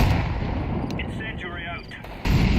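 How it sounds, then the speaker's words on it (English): A grenade thrown in the shooter game Valorant, a dense booming blast of gunfire-like noise filling the whole moment, with brief tonal effect sounds layered over it and a sharp renewed burst near the end. "Throwing a grenade."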